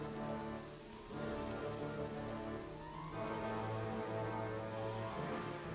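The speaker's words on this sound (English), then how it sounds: "It's another day of rain." Steady rain falls across a WWII strategy game battlefield, a continuous soft patter with layered droning tones running throughout and no voices.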